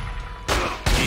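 Two bursts of gunfire from The Godfather 2 game crack out in quick succession, loud and close, over a quiet ambient background.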